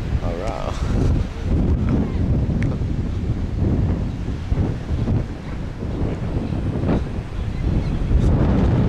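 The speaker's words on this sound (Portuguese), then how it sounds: "Estou na praia. I am the beach in the USA." A beach in the USA, where strong wind buffets the microphone and surf washes steadily underneath, loud and continuous throughout, with voices talking faintly in the mix.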